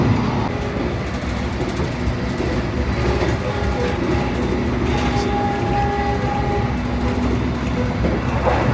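A passenger train arriving at Surabaya Pasar Turi station, heard from inside the carriage as a loud, steady rumble with faint clickety-clack and a thin high whine partway through. No one speaks.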